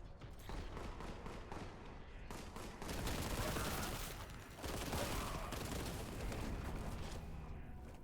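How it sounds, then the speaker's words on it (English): A bolter gun fires in Warhammer 40,000: Boltgun in loud, rapid, continuous bursts of heavy shots with booming impacts. The barrage is near and dominant, briefly easing around the midpoint before resuming. "this bolt gun, the bolter gun feels good"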